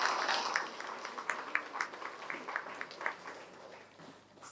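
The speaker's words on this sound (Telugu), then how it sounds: "ఎంత బాగా చేసేది, గట్టిగా చప్పట్లు" An audience at a spiritual meditation gathering in Dwaraka Tirumala claps, a moderate scattered patter of hands heard from some distance that thins toward the end.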